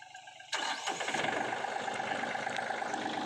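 Yamaha EF 399 T farm tractor engine cranks and fires about half a second in, then settles into a steady, loud, close running rumble with no talk over it.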